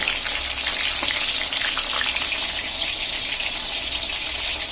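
Fish fillets frying in hot oil in a pan give a loud, steady, continuous sizzle with a bright crackling hiss that holds evenly throughout, with no voices.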